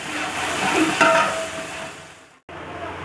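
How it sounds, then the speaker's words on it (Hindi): Onions frying in oil for a beef kebab fry, a steady close sizzle with stirring clinks from a spoon against the pan, briefly cut off near the end. "इसमें जस्ट प्याज फ्राई करने के लिए हम ऑयल डालेंगे और साथ में ही प्याज ऐड कर देंगे"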